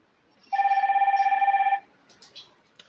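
A telephone rings once in a single sustained electronic ring burst of about a second, loud and close, dialing a contact-centre supervisor straight from a chat window, followed by a few faint clicks.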